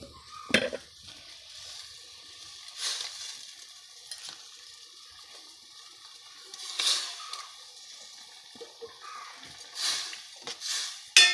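Fish head dropped into a boiling river fish curry: faint bubbling and simmering with a few soft splashes and clinks of a pot and utensil, quiet and close.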